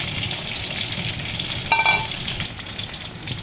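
Snakehead fish is stirred into a pot of boiling Thai sour curry, giving a continuous bubbling sizzle with a brief clink of the utensil against the pot partway through, close and moderately loud.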